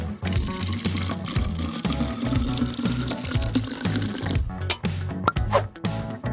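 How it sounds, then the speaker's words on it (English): Soda poured from a container into an empty plastic bottle for a DIY fidget craft: a continuous liquid pour that runs under steady background music. "Just add soda."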